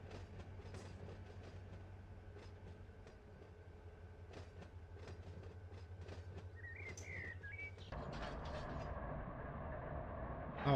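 A freight train rolls and clanks along in the Run 8 train simulator game, rhythmic clickety-clack with steady rumble, then a shift to a louder hiss as braking brings it to a stop, with faint bird chirps.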